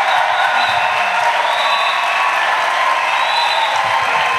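An audience at the official opening of a pastoral college in Côte d'Ivoire applauds and cheers in a loud, dense, unbroken wash of crowd noise that fills the whole stretch.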